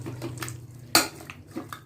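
A single sharp metallic clank as a pot is set on the stove for tempering mutton biryani, amid faint kitchen clatter and a low hum.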